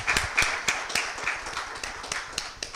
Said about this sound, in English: So a big round of applause to the MCs of the day